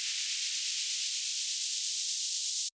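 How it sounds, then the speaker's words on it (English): A steady wash of bright white noise, an uplifter riser in a music build-up, hisses evenly for a few seconds, then cuts off abruptly into silence. "in the build-up, there is an uplifter, which is some basic white noise"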